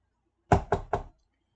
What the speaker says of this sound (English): that's me knocking on your forehead again